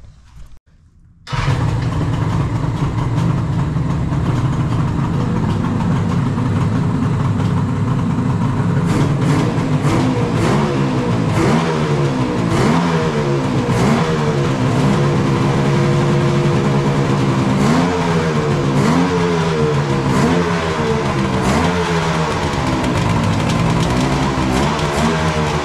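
Vintage Suzuki GT750 motorcycle engine starting after a moment of quiet, then running loudly up close with repeated revving that swells and falls over a rough idle.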